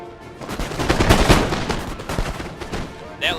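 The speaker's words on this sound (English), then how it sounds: "They're about to take a barrage." Musket volleys in Napoleon: Total War battle, a dense rolling barrage of overlapping gunshots that swells and fades over a few seconds, with game ambience beneath.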